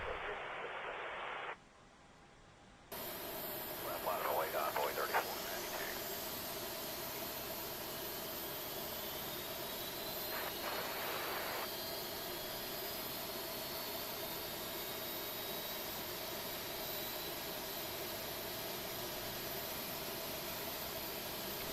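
An Airbus A321's number 2 engine spools up during a start in the Prepar3D flight simulator, a steady hiss and whine holding at a moderate, even level with a faint rising tone and brief bursts early on, no voices.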